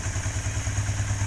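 Honda XR125 twin motorcycle engine firing up after its plugs were cleaned and run without the choke, chugging steadily with an even low pulsing throb, close by.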